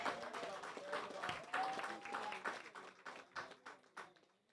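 Applause for the staff at a land regularization handover ceremony in Upper Monkey Hill, scattered modest clapping from a small crowd that thins out toward the end, with voices mixed in.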